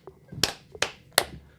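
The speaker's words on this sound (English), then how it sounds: "All right, clap sync done." Three sharp hand claps for audio sync, spaced about a third of a second apart, close and crisp, with faint murmuring before them.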